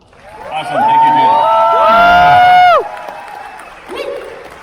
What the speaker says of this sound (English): One more huge round of applause, please, for Jen